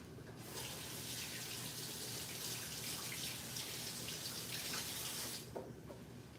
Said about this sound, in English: We'll wash my hands.